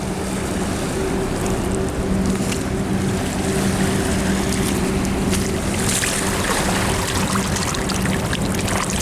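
River water splashes and pours as a bone is washed off on the Thames foreshore, a steady close trickling and sloshing over running water.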